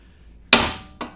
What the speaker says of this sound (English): we'll use a big 6-pound hammer to send a shockwave through here